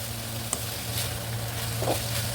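Chicken frying in a pan with garlic and onion, a steady low sizzle with a brief clack of a utensil and soft stirring, heard up close with no talk.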